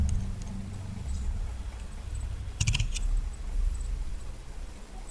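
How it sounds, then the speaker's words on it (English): Fingers tap out a message on a keyboard, soft scattered keystrokes against a low background hum with a short cluster of sharper clicks midway, no talking. "Now here you can type any message"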